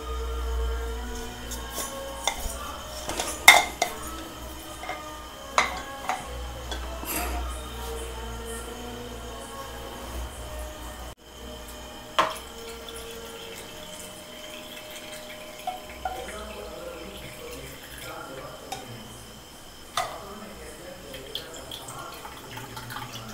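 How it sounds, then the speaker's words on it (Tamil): Curry leaf decoction being strained in a kitchen, heard as a steady, fairly loud pour and trickle of liquid with occasional drips and clinks of utensils, running continuously with no speech. "இப்போ இதை நம்ம வடிகட்டிக்கலாம்."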